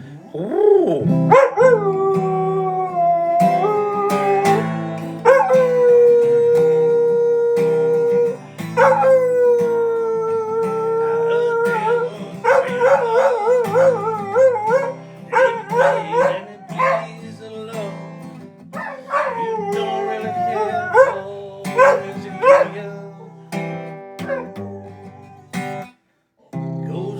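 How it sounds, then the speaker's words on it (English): A dog howls in long, wavering, rising and falling cries mixed with a few short barks, loud and close, running steadily for almost half a minute before ending in scattered bursts. "We're singing like a dog on a Friday night"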